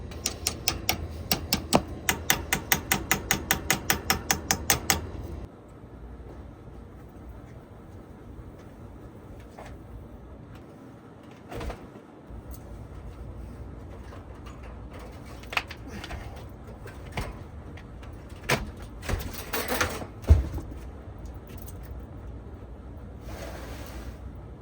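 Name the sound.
deburring the cut end of a copper pipe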